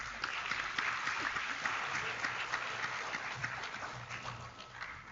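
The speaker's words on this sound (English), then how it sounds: "Let us warmly welcome our guest with a huge round of applause." An audience applauds to welcome a guest speaker, dense continuous clapping at steady volume across the whole span.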